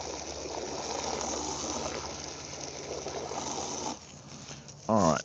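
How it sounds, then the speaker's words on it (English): A tap runs steadily with a broad watery hiss for about four seconds, then quiets, followed by a brief clatter or squeak near the end. "let me turn this water off"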